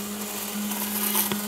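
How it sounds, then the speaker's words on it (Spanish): An electric blender whirs steadily, pureeing arugula ingredients for homemade mayonnaise in a kitchen, a constant motor hum with slight churning variation throughout. "Vamos a licuar esto"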